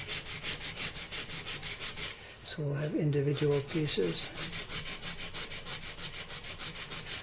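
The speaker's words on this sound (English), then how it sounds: "I can go over it like this with a piece of sandpaper on my sanding block and take all that paper off" Sandpaper wrapped on a sanding block rubs paper off wood in quick, even back-and-forth strokes, close and rhythmic, pausing briefly while someone talks midway before the scraping resumes.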